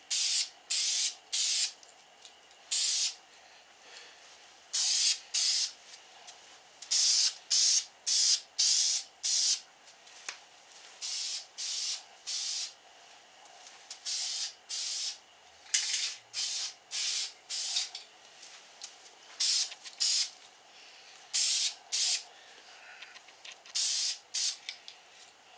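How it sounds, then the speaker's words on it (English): Krylon Color Master primer sprays onto a wooden flatbed toy truck in repeated short hissing bursts, each lasting about a second, with brief pauses between them and no talking. "I'm using some Krylon Color Master primer"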